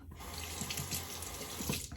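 Cold water runs from a bathroom tap to wet an aluminum safety razor, a steady close splashing stream with no talk.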